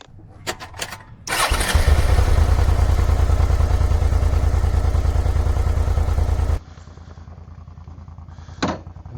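A motorcycle engine starts and revs steadily at close range while parked on a road trip from Lithuania to the Balkans, running loud for several seconds before cutting off abruptly, leaving quiet background with a brief clatter.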